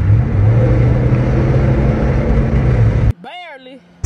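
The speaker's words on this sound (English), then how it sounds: "we about to go under a tunnel right now. Let's see if y'all can hear the exhaust." A car engine and exhaust drone loudly and steadily with road roar inside a tunnel for about three seconds, then cut off abruptly as a voice speaks.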